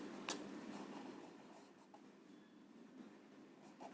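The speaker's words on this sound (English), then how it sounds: "so let me write the statement" A pen scratches across paper in short, quiet strokes, with soft scraping bursts and small taps coming and going over a few seconds. The sound is close and faint, with no talking over it.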